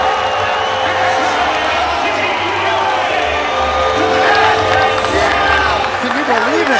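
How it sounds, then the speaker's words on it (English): A wrestling match crowd roars and cheers wildly after an upset win, a dense continuous wall of loud shouting and whooping with scattered clapping and voices throughout. "This crowd is going crazy."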